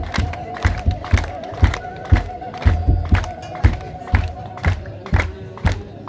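A wedding crowd ululates in rising, wavering cries. Rhythmic thumps of drumming or clapping punctuate it at a steady pulse, loud and close.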